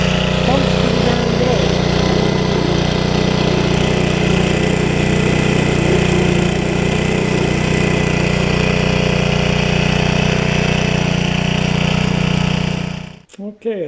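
A Briggs & Stratton small engine drives a Teel centrifugal water pump, running loud and steady with an even mechanical drone for most of the stretch before it sputters and cuts out near the end.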